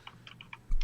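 Quick, light clicks of typing on a computer keyboard, about five soft keystrokes close by, ending in a duller thump.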